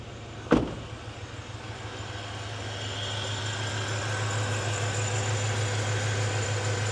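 A 1996 Chevy Impala SS with a 5.7 litre LT1 V8 and 4-speed automatic starts with a sharp crank and catches, then settles into a low, steady idle hum that holds close and even.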